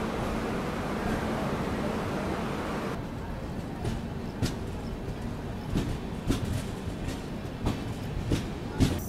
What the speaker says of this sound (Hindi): हमारी ट्रेन जो है पहुंच रही है रेवाड़ी जंक्शन रेलवे स्टेशन